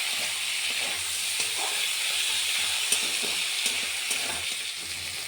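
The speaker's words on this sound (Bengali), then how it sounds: "আলুটা দেওয়ার পরে একটু ভালো করে নাড়াচাড়া করে নেবেন।" Chopped potatoes stirred and frying in a pan with tomato for a Bengali mourola fish curry, giving a steady, loud sizzle and hiss throughout, broken by occasional soft clicks of stirring.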